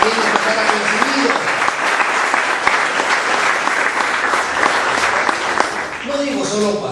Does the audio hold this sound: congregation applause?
yes